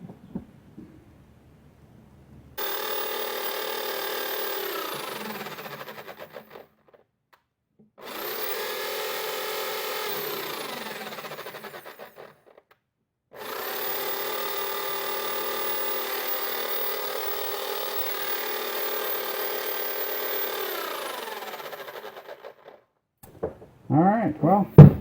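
A Bosch hammer drill running after its drive gear was replaced, three long bursts of loud, steady high-pitched motor whine, each spinning up and winding down with short silent gaps between, followed by brief handling noise at the end.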